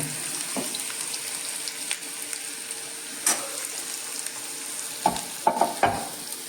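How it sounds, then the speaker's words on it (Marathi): Finely chopped onion frying in hot oil gives a steady soft sizzle, punctuated by several sharp spatula knocks and scrapes against the pan, clustered near the end. "त्यासाठी हे तेल ठेवलंय तापत. त्याच्यामध्ये हा कांदा बारीक चिरलेला घालतोय मी."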